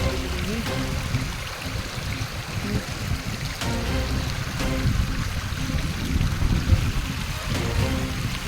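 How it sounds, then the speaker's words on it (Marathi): Floodwater from heavy rain rushes and gurgles steadily across a cotton field, a continuous flowing wash with a person talking over it throughout. "अख्खा शेतामध्ये पाणी, पूर्ण कपाशीचे क्षेत्र आहे का, पूर्ण कपाशीचे क्षेत्र पाणी"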